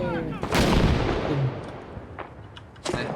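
A planted bomb detonates in the video game Six Days in Fallujah with a sharp, loud blast and a rumbling tail, followed by a second, sharper burst near the end.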